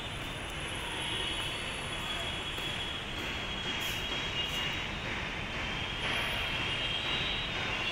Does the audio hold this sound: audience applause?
no